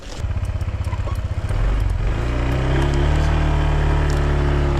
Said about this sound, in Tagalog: At dadalhin ko yung motor ni Utol.